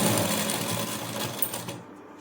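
A sewing machine runs fast and close, stitching elastic onto a child's scalloped skirt, a continuous rapid whirring chatter that stops just before the end.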